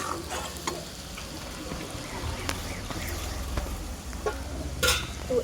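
Amla cooked down with black salt is stirred in a pan, soft scraping and gentle sizzling with occasional sharper clinks of the spoon against the metal, fairly quiet and close.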